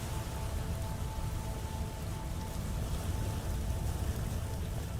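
Steady rain pours in the video game Vintage Story, a dense, even hiss of falling drops that continues unbroken and fairly loud, with no talk over it.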